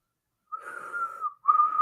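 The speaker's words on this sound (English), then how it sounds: "Mike blows his whistle" A police whistle blown in a radio drama, sounding as two shrill, steady blasts, the first longer and the second starting after a short gap, loud and close with no talking.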